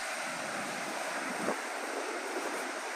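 Atlantic wind and surf pounding the cliffs of the southern Portuguese coast, a steady roar of waves under gusting wind with buffeting microphone noise and a brief swell near the middle, distant and continuous.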